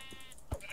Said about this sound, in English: sheep give you mutton, right?